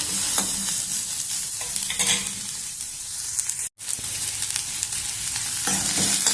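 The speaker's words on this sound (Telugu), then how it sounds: "కొంచెం కలర్ వచ్చేంత వరకు ఉల్లిగడ్డల్ని బాగా వేపుకున్నాము" Onions frying in a pan until browned, a continuous loud sizzle with scraping stir strokes throughout and a brief dropout midway, no talking.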